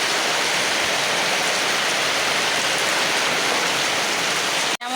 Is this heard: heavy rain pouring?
yes